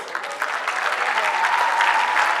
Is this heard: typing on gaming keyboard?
no